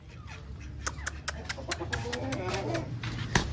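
Rooster clucking in short, repeated bursts at a moderate distance, with other fowl calls mixed in over a steady outdoor background.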